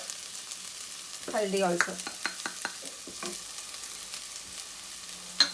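Onions roasting in a pan for Karnataka-style tomato rice sizzle softly and steadily, with scattered stirring scrapes and clicks and a brief spoken word over the quiet frying.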